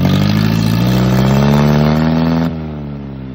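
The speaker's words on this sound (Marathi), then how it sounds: "बघा ट्रॅक्टरचा आवाज कसा येतो." A tractor engine running with its silencer removed while ploughing, a loud, steady, raw exhaust drone that holds level and then drops slightly in pitch and volume near the end.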